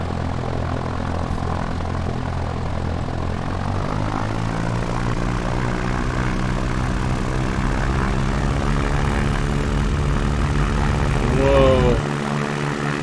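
Propeller engine of a tail-dragger plane in X-Plane 11 revving up steadily for a takeoff run, a loud, continuous drone whose pitch climbs and holds, with a brief whine near the end.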